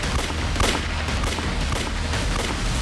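Gunfire erupts during an armed gang's attack on a police station, a dense, continuous barrage of shots with sharp bursts standing out over a steady roar, loud and close with no voices.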